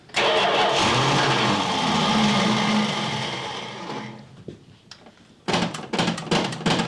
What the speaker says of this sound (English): So spin it over and I'll make sure the accelerator pump's working.